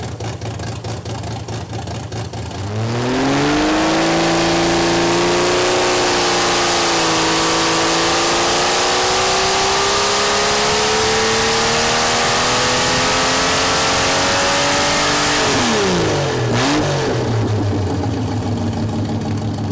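Jeep stroker engine fitted with stock stamped rocker arms, revving hard on a dyno, a loud sustained pull with a steadily rising engine tone that drops sharply near the end and settles back toward idle.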